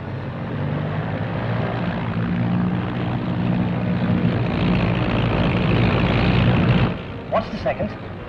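A propeller aeroplane climbing away just after takeoff in 1940s Britain, a steady droning engine hum holding for several seconds before cutting off abruptly, followed by a few faint scattered sounds.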